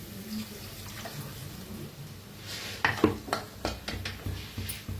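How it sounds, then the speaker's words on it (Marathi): Water poured from a mixer jar into frying egg curry masala, a quiet sizzle building into a burst of splashing and spattering with several sharp clatters. "पाणी ओतूया."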